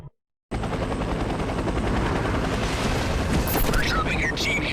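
Helicopter rotor noise in the video game Legendary as a chopper drops a team near the Black Order tower in New York, a steady loud roar with rumbling battle sounds, starting abruptly after a short silence.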